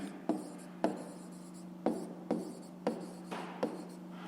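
Pen strokes scratch across paper as digits are written by hand for a fifth-grade math exercise, about seven short brisk scrapes at uneven intervals, close and clear with no talking.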